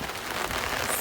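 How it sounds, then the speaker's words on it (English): A brief burst of steady rain patters and hisses on a surface, dense and even for about a second, on the Essequibo Coast. "Today is very rainy"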